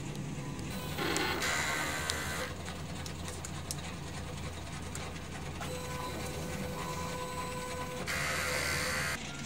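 A DTF printer runs a heat clean cycle, with mechanical whirring, clicking gears and ratcheting from its moving parts that shift through several stages, heard up close and steady with no voices.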